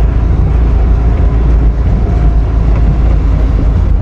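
A 1971 Hillman Imp Super's engine hums smoothly while driving, a loud, steady low rumble heard from inside the car with some wind buffeting.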